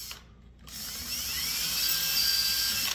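A cordless 12 V drill spins in reverse while sharpening a chainsaw chain, giving a steady high-pitched whirring grind that starts after a brief pause and runs loud and continuous to the end, with no talking.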